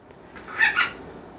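Pet finches and parakeets chirp indoors, two short bright squawking calls close together, fairly close and loud over a quiet room background with no talk.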